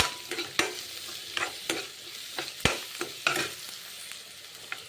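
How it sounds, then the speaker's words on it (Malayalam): Onions and shallots stirred and sautéed in a pan, with a soft steady sizzle broken by several sharp scraping clicks of a spoon against the pan, close and alone with no talk. "അതുകൂടി ഇട്ട് ഇളക്കാം ഇളക്കിയിട്ട് നന്നായി വാട്ടിയെടുക്കാൻ പോകണം"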